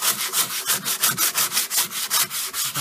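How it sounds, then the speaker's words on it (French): A manual hand sander works over wood in quick, regular back-and-forth strokes, about a dozen rasping passes in a steady rhythm, close and alone. "Je vais sortir ma ponceuse à bras."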